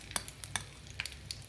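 Mustard seeds spluttering in hot oil while a Tamil vatha kuzhambu powder gravy is being made, with sharp irregular pops and crackles over a steady low sizzle, close and fairly quiet, no talking.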